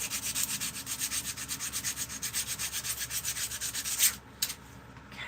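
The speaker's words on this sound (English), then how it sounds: "that sanding just wears on your arms" Hand sanding of wood, likely a carved spoon, makes a fast, rhythmic scrape of roughly five back-and-forth strokes per second, close and steady, stopping abruptly near the end with a couple of light knocks.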